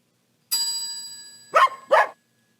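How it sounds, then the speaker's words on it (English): A little dog bark sound effect: a clean ringing tone fades, then two sharp, close barks follow quickly and cut to silence. "get our little dog bark"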